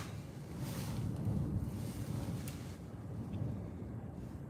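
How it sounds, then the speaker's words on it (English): Strong wind during a storm chase buffets the microphone in a continuous low roar with gusty surges, close and fairly loud, with no talk. "It's a pretty good wind."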